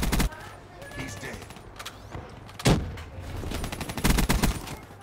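Shotgun fire in Black Ops 3, a few sharp, loud blasts scattered among other gunfire and game noise, with a voice talking over parts of it.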